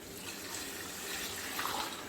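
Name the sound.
water poured into beef masala for chana pulao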